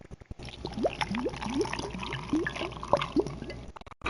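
Whiskey pouring into a glass for a mixed drink, a steady liquid stream with rising glugging pitches for about three seconds, close and clear, ending abruptly.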